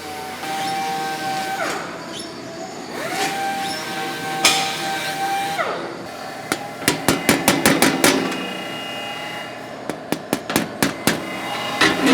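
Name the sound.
planishing hammer shaping sheet metal with a 36 die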